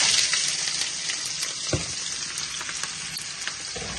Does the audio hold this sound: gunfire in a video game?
no